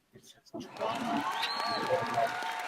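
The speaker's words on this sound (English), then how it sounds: "Let's get a round of applause." Audience applause breaks out at a singles pool match in a bar and grill, a brief voice and scattered sounds first, then steady, fairly close clapping that fills the rest of the clip.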